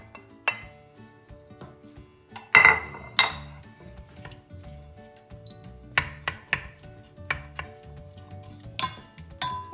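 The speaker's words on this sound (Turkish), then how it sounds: "Etimizi de tenceremizin içine alıp önce etimizi yağımızda birazcık kavuruyoruz." Meat browns in oil in a pot for Turkish fenugreek soup, giving a faint sizzle beneath sharp metallic clanks and scrapes of a utensil against the pot.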